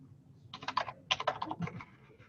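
Quiet clicking keystrokes on a computer keyboard come in quick bursts with short pauses between them, close by and fairly soft, no voices over the typing.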